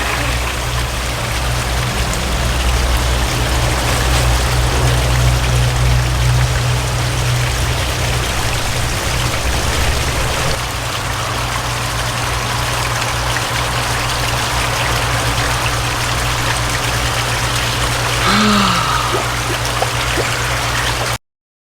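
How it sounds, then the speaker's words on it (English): Water pushed by a pump through a homemade pond filter spills into a waterfall, giving a steady, loud rushing splash throughout, with a low hum under it during the first half. "let's see if these can handle all the water that that thing pushes in"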